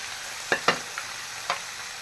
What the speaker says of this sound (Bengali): চিংড়ি মাছ আর মাংসের সাথে আমি ফুলকপিগুলাও ভেজা ফেলতেছি